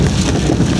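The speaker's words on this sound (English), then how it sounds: "it is raining a lot, so I'm having to raise my voice slightly so you can hear me over the windscreen wipers." Heavy rain drums on a vehicle as it drives, with windscreen wipers working against the downpour, forming a dense, loud, steady wash of noise and no talking.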